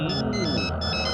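Short electronic phone ringtone, a bright repeating melodic tone, loud and close over a low background hum.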